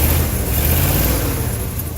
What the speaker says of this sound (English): I'm going to give it a little tap on the throttle